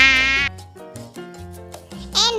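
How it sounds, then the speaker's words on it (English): A mosquito whines in one brief, high, dense buzz at the outset, then gives way to a light musical backing tune. "M for mosquito."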